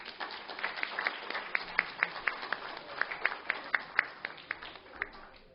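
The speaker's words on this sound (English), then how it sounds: "Let's give him a round of applause." Applause from an audience honoring the Waianae Tigers junior pee wee football team: a modest, steady round of clapping with distinct sharper claps standing out, moderately distant and alone.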